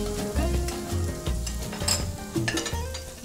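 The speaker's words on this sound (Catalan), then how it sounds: "saltejarem molt poquet la verdura amb mantega" Vegetables sauté in butter in a restaurant kitchen pan before the truffle sauce is made in it. A steady close sizzle runs throughout, with stirring scrapes and light utensil clinks against the pan.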